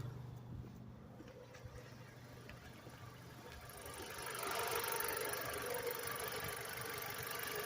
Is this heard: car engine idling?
yes